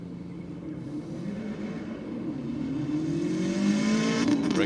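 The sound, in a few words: old school V8 cars racing at Sydney Dragway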